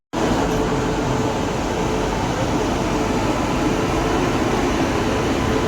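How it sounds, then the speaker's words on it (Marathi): A train rolls past railway platform number 4, a loud, continuous rumbling roar that holds steady close by from start to finish. "हे बघा ट्रेन चालली आहे."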